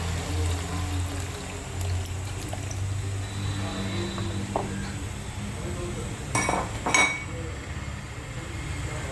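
Tamarind water pours into a pan for fish curry amid clinking of metal utensils and pots, with a low steady hum underneath and a few sharper clatters near the end.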